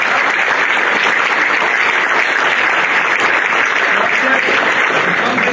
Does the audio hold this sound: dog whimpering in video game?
no